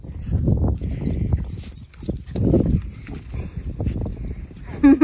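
Quick, irregular footfalls patter and clop like small hooves on a hard floor, with people talking excitedly over them, as a miniature schnauzer runs at a campground.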